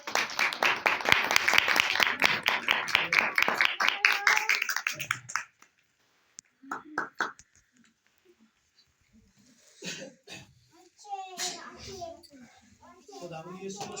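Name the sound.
loud applause from congregation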